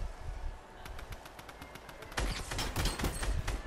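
Rapid bursts of video game gunfire fire at something overhead, starting as a quicker, lighter rattle and then turning into a louder, denser barrage in the second half, with no talking.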